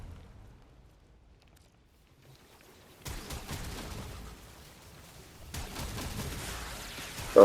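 Bursts of alt-fire shots from the Coda Bubonico gun in Warframe, cutting in abruptly after a quiet stretch, with a sustained crackling barrage that pauses briefly then resumes, ending on a sharp loud hit.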